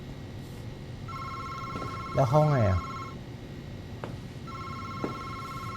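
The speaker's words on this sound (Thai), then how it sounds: "เอ้ยนั่นไงโทรศัพท์" A telephone rings in a horror video game, a thin electronic trill repeating in two bursts, with a player talking briefly over it in the middle.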